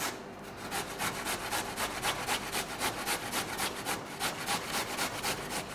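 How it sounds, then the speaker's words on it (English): A carrot is grated by hand on a kitchen grater, giving steady rhythmic rasping strokes, about three per second, close and fairly loud, with no talking. "grab your grater and grate"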